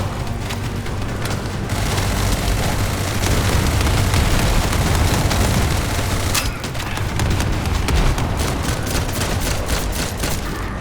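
Bomb support strikes in The First Descendant game: a dense, continuous barrage of loud overlapping explosions and gunfire-like bursts rolling on for about eleven seconds, with a sharper blast near the middle.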